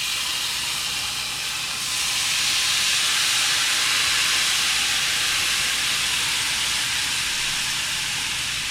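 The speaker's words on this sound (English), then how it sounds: "we're just going to let this simmer until it starts like thickening up and it gets like glossy" Chicken broth for a potato and carrot pot pie filling simmers in a pot, giving off a steady, broad hiss that grows louder after a couple of seconds and holds evenly with no talking.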